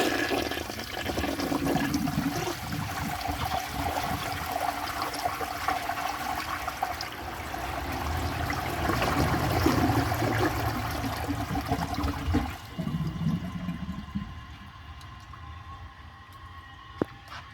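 A 1964 Gerber Mt Vernon toilet flushes a grocery bag, a loud close rush of draining water lasting several seconds before easing into a quieter refill trickle, with no talking.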